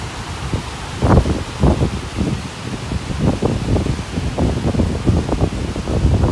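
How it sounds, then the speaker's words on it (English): Heavy rain and gusting wind on a beach in North Naples during Tropical Storm Gordon, a steady broadband wash of downpour with wind buffeting the microphone and occasional louder gust bursts throughout. "It's really raining pretty hard."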